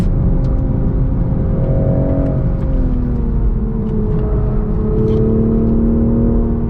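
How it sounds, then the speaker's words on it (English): A 2023 Toyota GR Supra 3.0 with a six-speed manual, driven on a track in sport mode with rev matching, gives a loud, close engine drone whose pitch climbs and dips as it accelerates and eases off. No voices are heard. "It's so great to have control over your gears in the Supra, finally having a manual transmission option."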